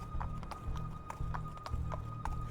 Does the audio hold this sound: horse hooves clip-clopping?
yes